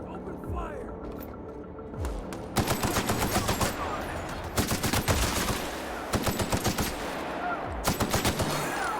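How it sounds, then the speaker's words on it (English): Gunfire in the video game The Outer Worlds: after a quieter opening, bursts of rapid automatic shots start at about two and a half seconds and keep going, loud and close, in several clusters. "Open fire."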